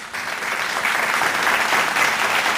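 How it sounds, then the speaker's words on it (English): A crowd at a finance investor meet breaks into a round of applause for the jury, the clapping swelling quickly and staying steady and dense throughout, with no talk over it. "Please give them a huge round of applause."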